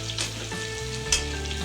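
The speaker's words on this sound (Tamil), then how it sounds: "திரும்ப நம்ம கொஞ்சம் கிண்டி விட்டுப்போம், இல்லைன்னா அடி பிடிச்சிரும்." Onions sizzle in hot oil for an onion-garlic curry while being stirred, a bright crackling fry with a scrape of the spoon partway through, close and without speech.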